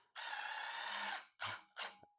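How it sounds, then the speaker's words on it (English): A drill boring a hole downward through metal with cutting oil, a harsh high squealing grind held for about a second, then two shorter bursts, close and fairly quiet with no talk. "I'll show you how to drill a hole, another hole downward"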